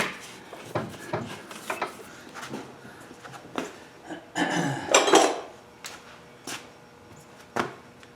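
Small metallic clicks, taps and scrapes come in scattered bursts as a retaining clip is worked onto the governor shaft of a Honda engine, close and fairly quiet with no talking.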